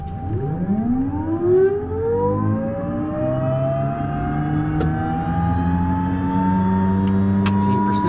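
Pilatus PC-12NG turboprop engine spooling up during start, a rising whine climbing steadily in pitch with a low rumble underneath, loud and close, with a few clicks.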